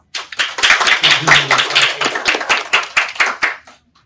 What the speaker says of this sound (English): So let's give a good round of applause for Stephania with her title, Balloons, Pancakes, and the American Dream.